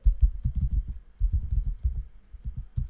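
Close, rapid typing on a computer keyboard, soft dense keystrokes in two quick bursts with a brief pause between.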